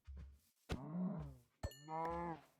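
Two cow moos from Minecraft, short and clear, the second rising with a tonal bleat, alone with no talking.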